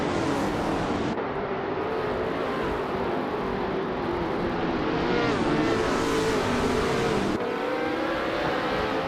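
Race car engines in a racing game, led by a vintage 1968 McKee Mark 12, drone loudly and continuously, with rising and falling revs and gear shifts, several cars blending together at close range.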